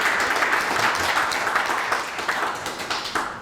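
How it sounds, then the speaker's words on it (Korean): An audience at a forum on inter-Korean exchange applauds to welcome a presenting professor, a dense steady patter of many hands clapping that gradually tapers off toward the end. "박수로 맞아주시죠."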